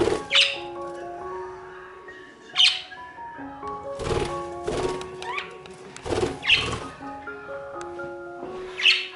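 Budgies in a cage bathing in a water plate give sharp, scattered squawks and chirps at irregular intervals, with soft splashing and shuffling between calls, fairly close.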